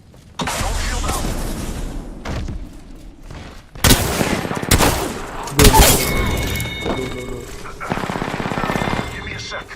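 Bursts of automatic gunfire in Apex Legends come in several loud, close volleys separated by short gaps, with heavy impacts mixed in and game voice callouts heard between them.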